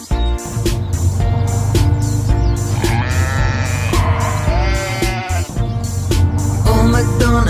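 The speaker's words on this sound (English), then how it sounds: "And on his farm he had a sheep, E-I-E-I-O." A sheep bleats repeatedly over a busy, loud, steady background, with wavering cries that rise and fall and no talking.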